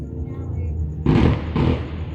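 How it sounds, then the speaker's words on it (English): Fireworks go off outdoors as two loud booming bursts about half a second apart, following a quieter stretch of background noise. "I heard the fireworks from all the way from my house"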